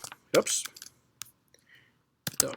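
Computer keyboard typing a command, a few scattered clicks and keystroke bursts with quiet gaps between them, near and moderately loud, along with brief speech sounds.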